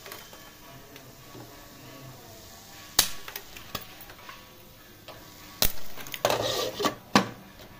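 Popcorn kernels popping in a covered pot on a stove, sparse sharp pops at first that quicken into a closer cluster of loud bursts toward the end, over a faint background.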